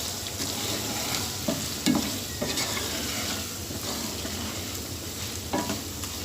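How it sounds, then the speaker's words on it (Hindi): Chicken fries in a handi with salt, crushed red chili and ground chili, making a continuous close sizzle broken by repeated spoon stirs and scrapes against the pot. "तो इसको 1 मिनट तक भून लें"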